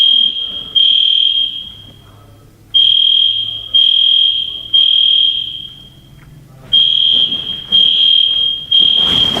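A fire alarm blares loudly inside a building, with a shrill, piercing tone repeating in long blasts separated by short gaps, close and dominant throughout.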